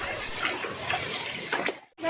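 Fresh spring water at Badiang spring runs in a steady, broad wash through the whole clip, then briefly drops away near the end. The sound is close and continuous, and faint voices sit underneath it.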